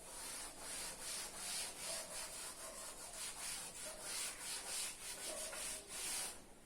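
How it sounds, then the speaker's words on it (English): Rubbing out chalk writing on a classroom board, a steady soft scrubbing with rhythmic back-and-forth strokes, fairly quiet and close, without any talking. "I'll rub it and write on the top."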